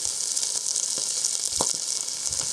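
Beef searing in a very hot pan for kale soup, giving a steady loud sizzle and spitting fry with a few soft pops, close by and without any talking.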